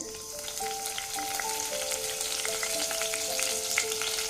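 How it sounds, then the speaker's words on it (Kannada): Cumin seeds sputter in heated oil as the tempering for idli sambar, giving a continuous close frying hiss with faint crackles and a few steady tonal hums underneath, and no speech. "ನೋಡಿ ಎಣ್ಣೆ ಕಾದಿದೆ. ಈಗ ಸ್ವಲ್ಪ ಜೀರಿಗೆ ಹಾಕ್ಕೋತಾ ಇದ್ದೀನಿ."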